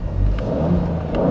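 An Alfa Romeo Giulia's engine revs steadily for just over a second, a loud, continuous mid-to-low mechanical roar close by with no voices over it.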